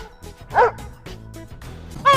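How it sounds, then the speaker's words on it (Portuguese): A dog gives two sharp, yipping barks about a second and a half apart, close and clear over a faint, low background murmur. "Cachorro."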